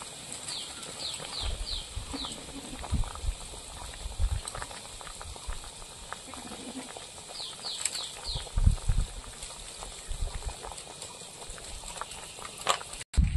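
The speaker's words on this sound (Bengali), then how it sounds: "তরকারিটা ফুটে উঠেছে।" Fish curry bubbles in a pot, soft irregular popping and gurgling with occasional louder plops and light clinks, fairly quiet and close.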